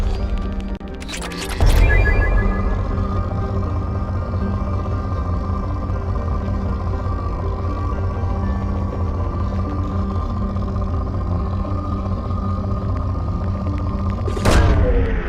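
A probe fires off during planet scanning in Mass Effect 2, a sharp whooshing launch burst near the start followed by a steady droning hum of the scanner, with a second brief burst at the end.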